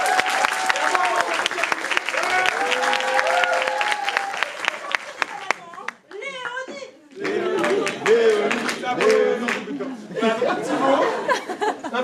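Loud audience applause for Léonie mixed with crowd chatter and chuckles, with voices speaking over the clapping throughout and a short lull midway before the noise swells again.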